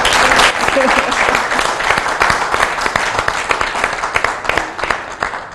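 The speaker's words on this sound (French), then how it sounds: "Quelques applaudissements." A studio audience on a health quiz show set claps steadily, a crisp sustained round of applause that gradually thins toward the end.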